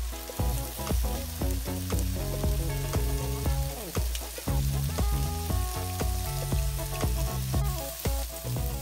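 Slices of pork belly fry in a pan for a rice bowl, giving a dense, continuous crackle and sizzle with rapid popping spatters. The sound is close, steady, and without speech.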